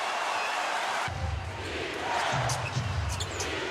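Basketball arena crowd at a San Antonio Spurs versus Golden State Warriors NBA game, a steady roar of many voices that swells twice, with sneaker squeaks and ball bounces from the court.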